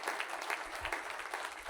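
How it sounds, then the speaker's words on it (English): Sustained audience applause at an outdoor park dedication ceremony, a dense steady wash of many hands clapping with no pauses, moderately loud and unbroken throughout. "How about a big round of applause for those partners?"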